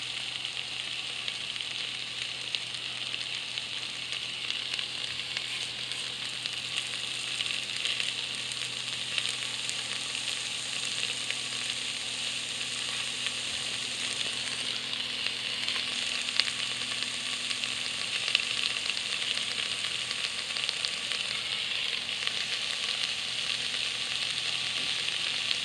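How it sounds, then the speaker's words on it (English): Kielbasa sausage frying in a pan outdoors on a beach gives a steady, close, unbroken sizzle with faint crackles throughout, and no voices. "Kielbasa, fried on the beach,"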